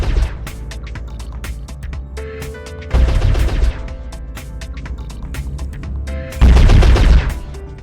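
A Dragon 1G mech in MechWarrior Online firing weapon alphas at an Awesome mech: loud, close volleys of repeated rapid shots in two heavy bursts, with tonal game sounds between and no talking.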